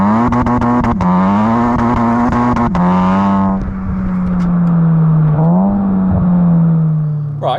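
A Stage 3 SEAT Leon Cupra tuned to 451 bhp pulls hard in a straight line, its engine droning loudly through a climbing rev, a quick shift, then another steady pull heard from inside the car.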